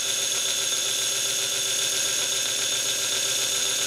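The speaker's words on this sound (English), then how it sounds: "I'm gonna go into the back and hit it on the grinder and flatten that out" A bench grinder wheel runs against a steel hot-cut chisel in a blacksmith's shop, flattening the edge with a steady, loud, high-pitched whine and a grinding hiss. The tone barely changes for the whole stretch.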